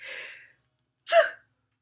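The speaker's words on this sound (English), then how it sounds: "I feel a sneeze." Two short sneezy bursts, a breathy intake followed about half a second later by a sharp, louder sneeze, with silence after.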